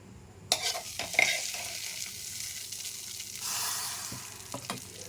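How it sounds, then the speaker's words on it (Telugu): Vermicelli being stirred into hot ghee in a pan while making Horlicks kheer, a loud sizzle bursting in with scraping spoon strokes against the pan, then a steady frying hiss that swells and fades near the end. "ఇప్పుడు సేమియా వేసేద్దామండి. వేసేటప్పుడు చాలా జాగ్రత్తగా వేయండి"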